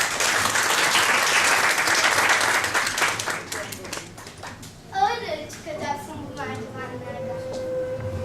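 Clapping from a school audience at a middle-school poetry recital fills the first few seconds and then fades, giving way to a single voice beginning to recite over a quiet room.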